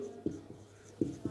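Chalk or marker writing on a classroom board comes through as a few short, faint scratchy strokes with small taps between them, quiet and close with no talk.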